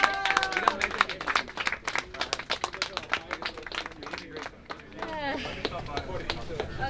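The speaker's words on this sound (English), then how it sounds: "We should still clap for our efforts." A team claps together, a burst of dense, fast applause from a small group nearby, with voices talking and cheering over and after it.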